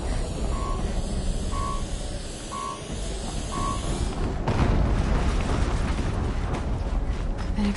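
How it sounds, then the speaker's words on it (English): In Horizon Zero Dawn gameplay, repeated beeping tones give way to a heavy explosion around the midpoint, a loud rumbling blast that lingers as a dense roar to the end. "Another explosion."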